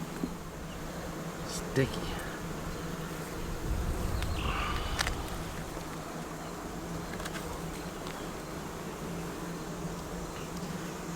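Honey bees buzz steadily around an open beehive during an inspection, a continuous low drone with a few brief nearby knocks, while a person speaks briefly.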